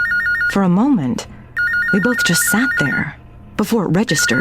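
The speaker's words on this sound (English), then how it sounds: "Oh my God. That's the phone." An audiobook telephone-ring effect sounds in short repeated bursts of a warbling electronic tone, mostly under a narrator's voice.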